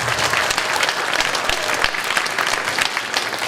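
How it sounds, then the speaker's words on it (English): An elementary school morning assembly breaks into applause for two students, a dense, even wash of many hands clapping that holds steady and loud for the whole stretch with no voices over it. "would you please give them a big round of applause?"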